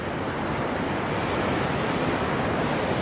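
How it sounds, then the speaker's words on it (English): A partly frozen waterfall crashes down in a steady, dense, unbroken roar of rushing water that fills the whole clip, with no voices. "So you can see the water is crashing down over there."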